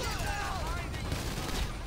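Minigun fire and other gunfire in GTA 5 Online, a dense, continuous crackle of shots under ongoing game noise and talk.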